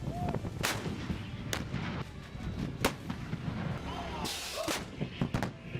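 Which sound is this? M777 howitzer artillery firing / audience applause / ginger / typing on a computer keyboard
M777 howitzer artillery firing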